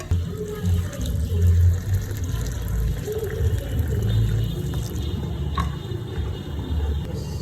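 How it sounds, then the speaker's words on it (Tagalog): A small amount of water is poured into a pan of fish pochero cooking in tomato sauce, making a soft, close gushing and splashing that swells in the first couple of seconds and then settles into a steady low wash. "Pagkatapos ay lagyan natin ng konting tubig."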